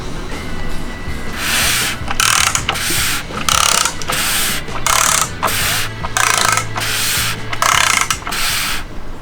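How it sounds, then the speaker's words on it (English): A ratchet torquing bolts on a Gen 3 Hemi short block being built for a 1500hp drag and drive engine, close rapid clicking strokes in about nine repeated bursts with short pauses between them. "So now I just got 2 more to put in, and we'll torque everything down, and then we'll have a short block."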